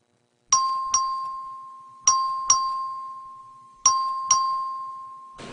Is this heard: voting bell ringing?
yes